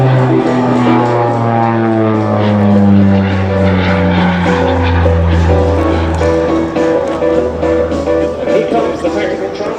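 A Skyvan aircraft comes in for a short landing at an air show, its steady propeller engine drone loud and sustained throughout with a droning harmonic tone, though the whine is partly mixed with other engine noise.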